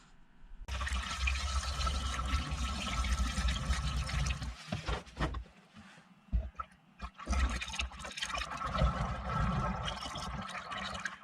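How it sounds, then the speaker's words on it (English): Mixed antifreeze coolant pouring into the expansion tank of a Ford 7.3 Super Duty truck, a close, gurgling liquid stream with sloshing and glugging pauses partway through, no talk over it. "let's go ahead and mix up some antifreeze and throw it in there."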